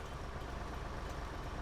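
A Cat 745 truck's engine runs in the SnowRunner video game, a steady low rumble with constant loudness and no talk over it.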